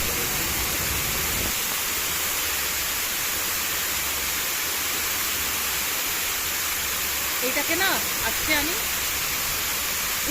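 Pradhanpat waterfall in Odisha roars as a steady, dense wash of falling water, loud and continuous throughout, with a brief patch of faint higher-pitched sound near the end.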